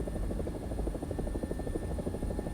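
Rhythmic low chopping thump of a Huey helicopter rotor in War Thunder, a steady rapid beat with a thin whine above it and no talking.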